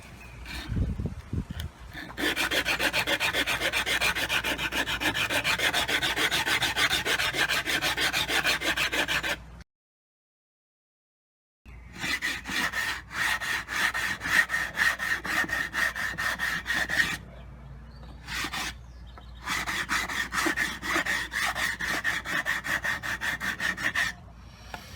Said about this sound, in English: I've got it sanded down there with a coarse sandpaper